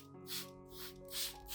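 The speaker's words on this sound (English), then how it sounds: "Spray evenly on leaves, stems, and root areas with a fine mist." A spray bottle lets out four soft, evenly spaced hisses of fine mist onto an orchid's leaves, stems and roots, faint and close with no voices.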